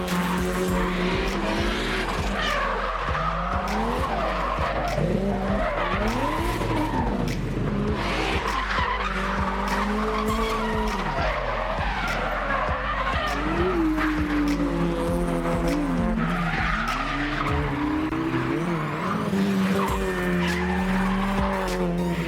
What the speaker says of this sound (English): front wheel drive drifting.